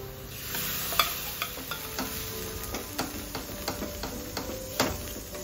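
Golden-brown onions frying in a pan with turmeric, red chili, kitchen king masala and garam masala as a prepared paste goes in: a steady close sizzle with scattered scraping stir clicks from a spoon against the pan, no voices.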